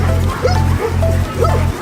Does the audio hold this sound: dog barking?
yes